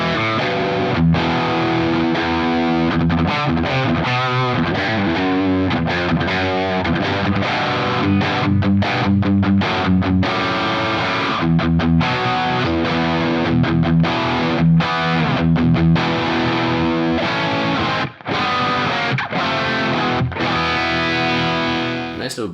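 A Gunnar Örn Loki custom Icelandic electric guitar plays a continuous riff through heavy gain distortion, with loud, saturated chords and quick rhythmic chugs with brief stops throughout.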